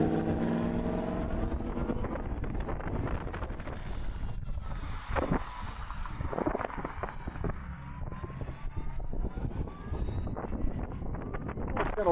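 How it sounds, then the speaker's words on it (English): A Can-Am electric motorcycle, either the Origin or the Pulse, on a ride with a faint motor whine. Steady wind rush and road noise dominate, and short voice fragments pass over it. "It's got a little bit of a whine to it."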